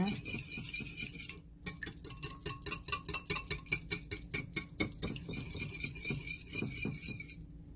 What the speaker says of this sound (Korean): 노란자고 흰자고 완전히 섞이도록 저어줍니다